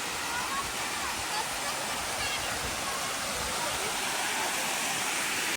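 Katika waterfall in Araku pours down with a steady, full roar of falling water, loud and continuous from nearby, cutting off abruptly at the end.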